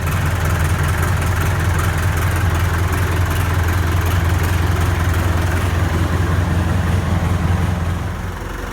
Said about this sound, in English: I'll give you guys the rundown on this Lincoln welder generator